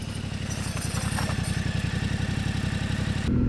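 A Yamaha Tenere 700 motorcycle engine pulls steadily while riding off-road, a close, loud, rhythmic thumping twin-cylinder drone with a clattering pulse that holds even throughout, with no talking.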